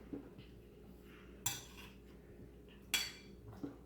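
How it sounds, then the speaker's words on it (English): A spoon mixing chia seed fruit salad with honey in a bowl makes quiet scraping broken by two sharp, bright clinks against the bowl, recorded close in a calm kitchen. "So we're going to be mixing this in. So it's going to mix for like a minute or two."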